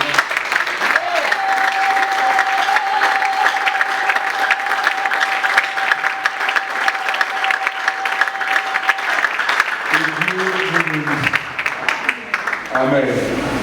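A church congregation applauds loudly and steadily for over ten seconds, with voices and a sustained tone in the mix, tapering into speech near the end.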